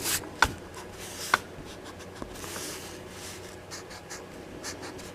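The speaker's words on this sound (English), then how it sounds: "Now let's go and let's erase the lines here" A pencil eraser rubs over a monster drawing on paper in soft, brushy strokes, close by, with a couple of sharp taps near the start.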